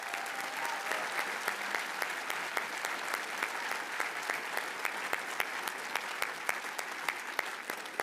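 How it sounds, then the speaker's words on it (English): Applause from a crowd at a 2023 Cushing Academy commencement ceremony, steady dense clapping with sharp individual claps standing out, moderately distant and sustained throughout. "Let's give them a big round of applause."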